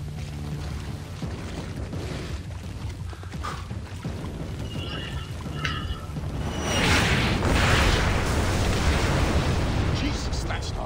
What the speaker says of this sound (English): Sounded like Katushas.